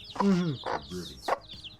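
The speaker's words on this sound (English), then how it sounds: "She's a broody hen. Yeah, she's very talkative" A broody hen in a coop clucks in a series of short, close, talkative calls, rising and falling in quick bursts with little pause between them.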